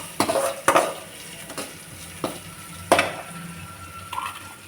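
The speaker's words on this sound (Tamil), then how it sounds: "இப்போ வெங்காயம் போட்டுக்கலாம். வெங்காயம் ஒரு 2 நிமிஷம் வதங்கட்டும்." Onions soften in a pan for okra poriyal, with a low sizzle under repeated close scraping and clinking from a spoon stirring them.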